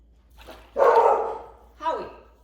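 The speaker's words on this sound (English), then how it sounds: "Guard dog is on duty." A guard dog barks in a home kitchen during baking, two short bursts close by with the second quieter, and no talk over them.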